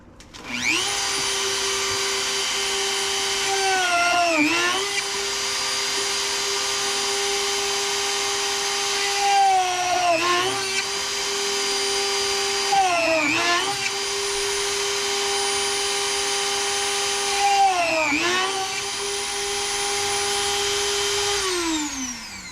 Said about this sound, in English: We're going to take this and punch the holes that we need.